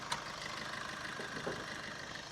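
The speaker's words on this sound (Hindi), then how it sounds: "तो इसका DDIS ये इंजन है, फिएट का इंजन है ये।" A Maruti Vitara Brezza's Fiat-built DDiS diesel engine, about 90 bhp, idling under an open bonnet, giving a steady, faint clatter with no voices.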